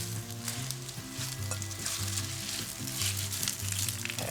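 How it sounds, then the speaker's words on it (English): About 200 grams of fresh spinach cooking in a pan, giving a steady, loud sizzle and crackle that runs without a break and without voices. A low tonal hum sits underneath throughout. "In the meantime, let's cook this spinach."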